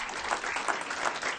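An audience at a school board meeting applauding elementary school archers, a steady wash of clapping from a room full of people, moderately loud and sustained throughout.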